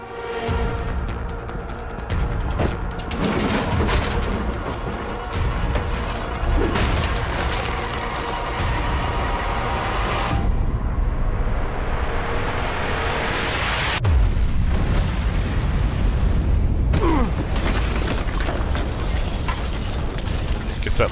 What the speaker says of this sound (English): It's a bomb tracer. A bomb!